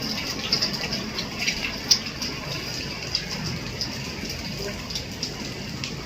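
Rain falls on flood water filling a home courtyard, a steady soft patter and trickle with occasional sharper drips, faint and continuous with no clear talking.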